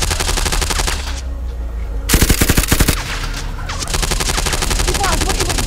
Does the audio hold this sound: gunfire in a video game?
yes